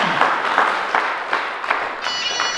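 An audience at a school graduation ceremony claps steadily, a loud, dense wash of applause that fills the hall without pause.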